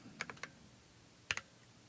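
Someone types on a keyboard connected to a Kindle Fire tablet, with a quick burst of four soft clicking keystrokes and then two more after a pause, faint and close in a quiet room.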